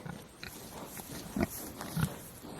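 Farm pig, a sow, moving nearby with soft grunts and short snorts, a couple of louder low grunts standing out against quiet background rustle.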